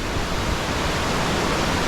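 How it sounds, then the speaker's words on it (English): Tumpak Sewu waterfall in East Java, Indonesia, pours as a dense, steady broadband roar, loud and unbroken, with no voices over it. "this is one pretty epic waterfall"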